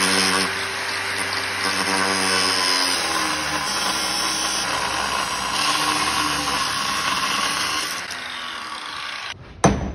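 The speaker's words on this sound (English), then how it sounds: "Big grinder." A big angle grinder works clamped metal on a farm repair job, a loud, steady, broadband whine running continuously for about ten seconds before cutting off abruptly near the end.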